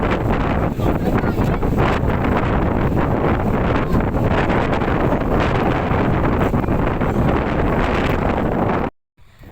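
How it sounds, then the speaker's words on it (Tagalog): Loud, roaring sea wind buffets the microphone nonstop at the beach, a heavy rumbling gust that cuts off abruptly near the end. "Hangin kayo, ako ning gipahinayan kay grabe kasaba."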